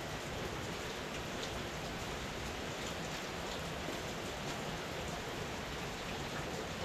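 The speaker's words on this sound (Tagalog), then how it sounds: "nagtuloy-tuloy yung ulan" Steady, continuous rain falls on surfaces outdoors, a dense even hiss of raindrops with no breaks or talking, during construction work on a bathroom.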